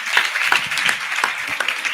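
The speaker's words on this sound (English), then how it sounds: "please clap for her" An audience at a youth program claps together, a short burst of uneven, fairly close hand claps.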